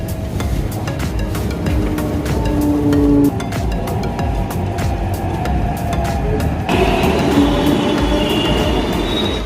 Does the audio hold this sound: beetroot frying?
no